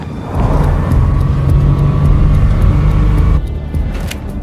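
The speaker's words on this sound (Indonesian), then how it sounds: "beberapa mobil berisi pasukan Carlos mendekat ke rumahnya" Several cars approaching a farmhouse, a loud close engine drone with a steady low hum that cuts off abruptly near the end, leaving quieter rumble.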